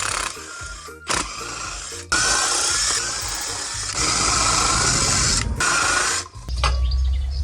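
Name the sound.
impact driver undoing sprocket nuts on KTM 250 EXC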